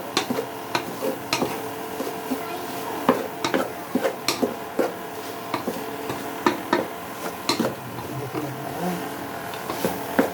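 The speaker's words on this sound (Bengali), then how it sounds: "গরম মশলাটা ছিটিয়ে একটু আবার লাড়ালাড়ি করবো" Garam masala being stirred into a katla fish coconut korma in a pan, with repeated scraping and tapping of a spoon against the pan over a soft sizzle, steady and close.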